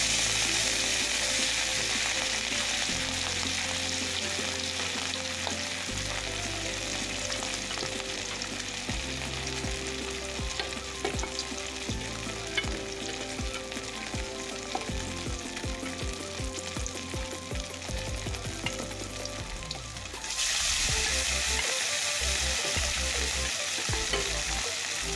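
Fish frying in hot oil, a steady loud sizzle running throughout with metallic stirring clatter, the hiss dropping off sharply near the end while low clanks continue.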